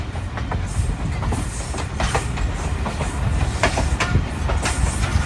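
Khushal Khan Khattak Express rolling through Gopang railway station on a curve, a steady loud rumble with repeated clickety-clack wheel beats and sharp metallic ticks over the whole stretch, no voices.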